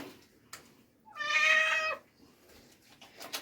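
A single loud, drawn-out cat meow as the cat is bathed, amid splashing and rustling noises, with faint clatter before and after.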